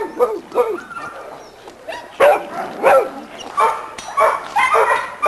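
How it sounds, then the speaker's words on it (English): Old dog called Dirty Jim barking in a backyard, a run of repeated barks and yips close by, fairly loud and uneven in rhythm, with a voice faintly mixed in. "This guy right here is our old dog we call Dirty Jim"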